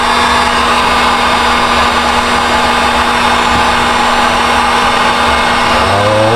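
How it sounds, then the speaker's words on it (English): Heat gun blowing hot air onto a Raptor liner on a Jeep XJ, a loud, steady, close-up roaring whoosh throughout with no talk. "Take the heat gun, put a little heat on it."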